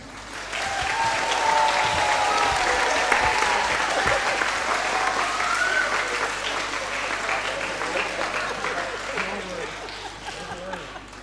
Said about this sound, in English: so we want to give a huge round of applause to Mr. Stiegel